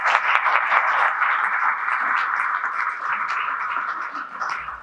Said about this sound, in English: He does like that attention, so you can always clap for him